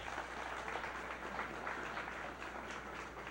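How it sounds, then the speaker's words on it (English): An audience applauds Karl Hartwick and the Country Dutchmen after their set, a steady, moderately faint patter of many hands clapping, heard as an older recording with a low hum. "Let's give them a nice big round of applause here, should we?"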